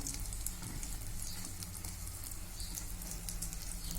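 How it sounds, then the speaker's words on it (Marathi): A bread-based vegetable cutlet fries in a pan, giving off a soft, steady sizzle and crackle. The frying hiss is quiet and continuous, dotted with faint pops, and no one speaks. "चला तर मग आता दोन्ही साईडने छान फ्राय करून घेऊया"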